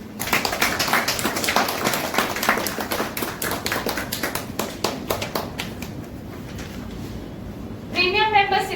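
Members at a business networking meeting in Mumbai clap steadily in a room, a dense run of hand claps that thins out and trails off, followed by a brief burst of talk.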